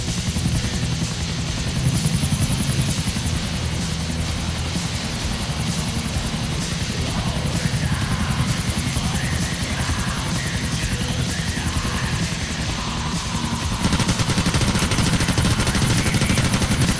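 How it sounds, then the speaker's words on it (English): Helicopter flying in the video game GTA The Lost and Damned: a loud, continuous rotor chop and engine whine that holds throughout, swelling slightly near the end, with no voices. "You can actually fly heli."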